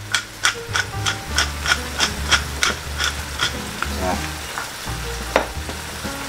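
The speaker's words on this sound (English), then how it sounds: "Then we saute a little bit." Pasta sauce sautéing in a pan, a steady sizzle and crackle of frying with rhythmic ticking taps of a spoon stirring against the pan, close and unaccompanied by talk.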